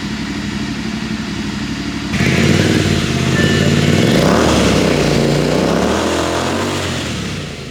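A Royal Enfield motorcycle engine runs close by, steady at first, then swelling suddenly louder into a deep, throbbing rev that holds and slowly eases off.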